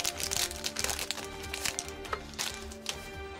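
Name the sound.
opening Yu-Gi-Oh card booster pack wrappers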